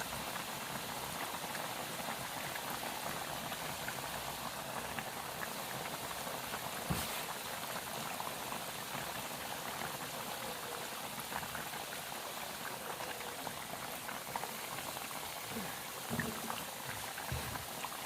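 Kentucky-style fried chicken sits undisturbed in oil and fries with a continuous, even, rain-like bubbling hiss. One brief knock breaks it partway through, and no one speaks.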